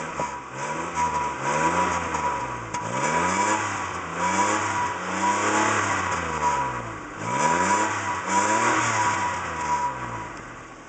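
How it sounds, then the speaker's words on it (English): A 1991 Pontiac Firefly's small engine revs up and down in several rising and falling surges, loud and close, with no talking over it. "Might as well give her some revs and show you guys."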